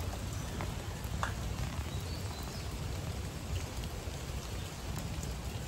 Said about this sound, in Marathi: मित्रांनो तुम्ही बघू शकता पाऊस थोडा जास्तच वाढलाय